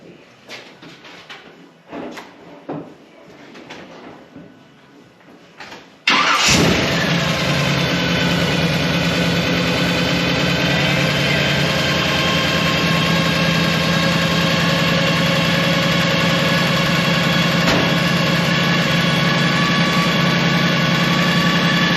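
A car engine with a new balancer and flex plate after a cam swap cranks and catches after a few quiet knocks, then settles into a loud, steady idle that runs on continuously.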